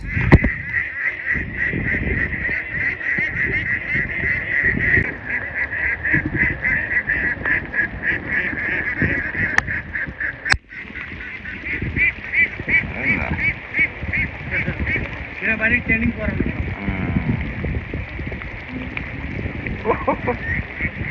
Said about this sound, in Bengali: এতগুলো হাঁস এক দুজন মানুষ কি করে তাড়িয়ে ঘরে ফিরাবে